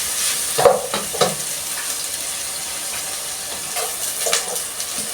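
Onions frying in a pan for African cabbage with beef hiss with a steady close sizzle, broken by a few clinks and scrapes of stirring.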